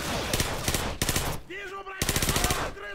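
Uzi submachine gun in Call of Duty 4 fires loud rapid bursts in quick succession, broken by a short pause with a brief tonal game sound before another burst resumes.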